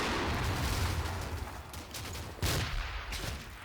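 Artillery fire in the video game Combat Mission: Fortress Italy, a dense, rumbling barrage of heavy booms blurring together, loud and sustained, with a fresh burst of impacts near the end and no voices.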